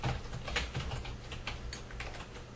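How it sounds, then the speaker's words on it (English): Someone types on a computer keyboard, a steady stream of close, crisp key clicks with no voices. "While he's typing things"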